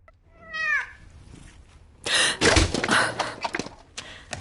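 A video game cat gives a rising, wavering meow at the start, followed by louder breathy gasping and snorting bursts from a voice later on.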